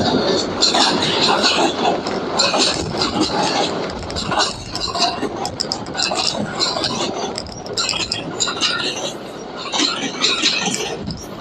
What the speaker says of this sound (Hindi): तो एक ज़बरदस्त ट्रेन यहाँ से अब गुज़र रही है